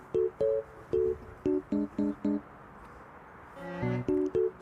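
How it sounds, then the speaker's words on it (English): A playful, bouncy electronic Wii tune plays as a comic effect, with short staccato notes in a hopping rhythm, clear and upfront with a faint background rumble. "the Wii song for when airplanes are crossing the runway"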